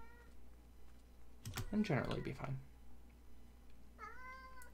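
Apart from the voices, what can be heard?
cat meowing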